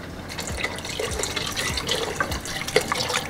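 Water pours and splashes into dosa batter in a home kitchen, a steady close liquid trickle with small drips and sloshes, with no voices.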